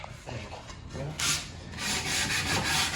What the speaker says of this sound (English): I like sanding in this position because it's comfortable